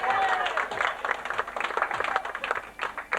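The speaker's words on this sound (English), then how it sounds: "Can you have a round of applause for that" Scattered hand clapping from a small group rises and falls irregularly, fairly light and brief, with some voices mixed in.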